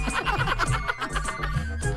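A telephone rings with a melodic, musical ringtone that plays continuously at moderate level for the whole stretch, with no one talking over it.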